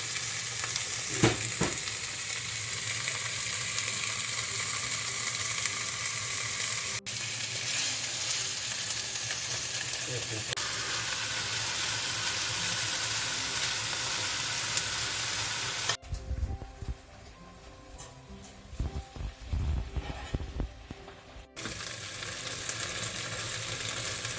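Chopped onion sizzles in hot oil with a dense, steady crackle that carries on throughout, easing to a softer, patchier fizz for a few seconds before the full hiss returns.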